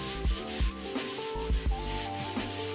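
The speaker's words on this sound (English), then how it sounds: "We're gonna be sanding the second coat of the joint compound" Rhythmic rasping strokes of sandpaper sanding a second coat of drywall joint compound on a bathroom wall, repeating back and forth over soft background music.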